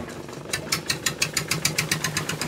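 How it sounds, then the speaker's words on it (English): Thai longtail boat with its long propeller shaft off the stern, the engine thumping in a fast steady chugging rhythm close by, loud and repeating through the whole stretch. "They are called a longtail boat because they have a big old long rotor off the back"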